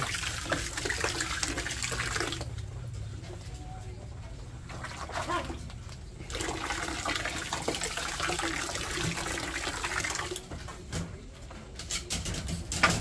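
Warm water is mixed and poured for a bath, with steady running and splashing that pauses and resumes, close by with a voice speaking over parts of it.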